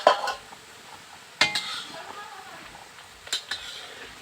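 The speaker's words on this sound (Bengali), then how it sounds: "এই আলু মিশিয়েছি," Potatoes are stirred in an oiled pan with a metal spoon, giving three distinct scraping clanks against the pan over a soft background sizzle.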